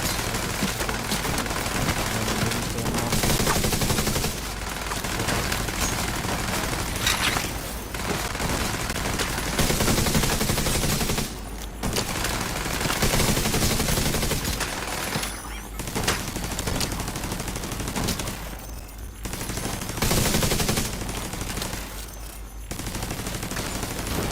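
Sustained automatic gunfire in The Division 2 rattles almost nonstop in dense bursts, with a few short pauses between volleys, loud and close throughout.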